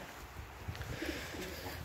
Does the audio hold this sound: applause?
no